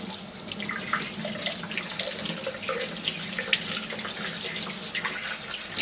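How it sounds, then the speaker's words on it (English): Running tap water splashes into a kitchen sink as parts of a Kuvings REVO830 whole juicer are rinsed, a steady close gush with small shifting splashes and no talk. "Make sure you get water in here and rinse off too."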